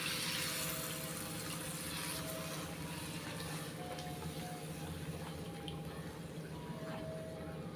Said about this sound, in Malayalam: ഇനി ഇതിലേക്ക് ആവശ്യത്തിന് വെള്ളം ചേർത്ത് കൊടുക്കാം.